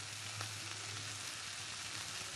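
Fish curry masala for a sardine kalia fries with kasuri methi in a pan, making a soft, even, continuous sizzle with a faint low hum beneath and no clear stirring strokes.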